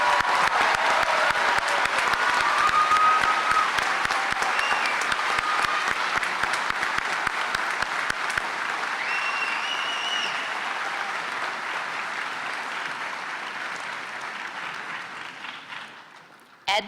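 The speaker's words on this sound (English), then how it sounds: "let's give a loud round of applause for the graduates who crossed the stage" A large audience at a spring convocation graduation ceremony applauds the graduates in sustained loud clapping that slowly fades out over about sixteen seconds.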